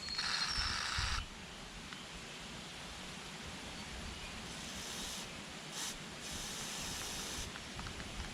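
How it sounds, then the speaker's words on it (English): A short burst of carburetor cleaner spray hisses loudly up close on a gas backpack leaf blower, followed by quieter hissing bursts against a steady noisy background. "Carb spray to clean out this area."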